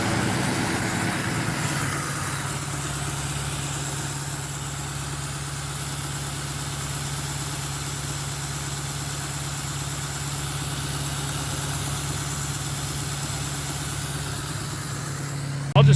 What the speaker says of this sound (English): Okay, we just got the truck running here. We're gonna, hopefully it kicks into high idle.